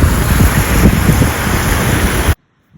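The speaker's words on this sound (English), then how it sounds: "You can see a wave coming in right now to the beach." Surf washing in on a northern California beach near Point Arena, a loud continuous rush of breaking water with wind buffeting the microphone, cutting off abruptly to near silence.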